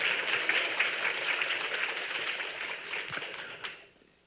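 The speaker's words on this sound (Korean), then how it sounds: "하나님께 감사의 영광으로 박수로 돌리겠습니다" A church congregation claps in a sustained round of applause that gradually tapers and fades out at the end.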